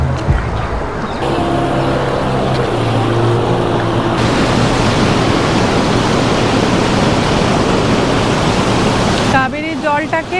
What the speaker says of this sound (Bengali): কাবেরীর জলটাকে এখানে ছাড়া হচ্ছে, দেখুন।